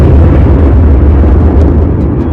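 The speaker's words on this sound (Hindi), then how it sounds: "बीच के इस भयंकर दबाव के कारण एक विशाल विस्फोट हुआ" A huge, loud explosion sound effect: a continuous deep rumbling roar, heavy in the low end and sustained throughout without a break.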